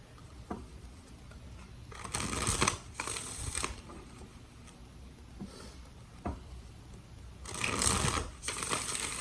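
Tarot cards are shuffled in several quick riffling bursts, close and crisp, separated by quieter pauses with faint handling taps.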